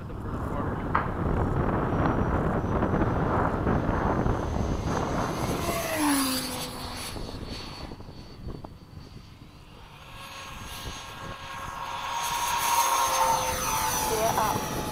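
A Freewing 90mm F/A-18C Blue Angel RC jet takes off with a rising, whining rush that sweeps in pitch as it passes and then fades into a distant roar, while people talk close by.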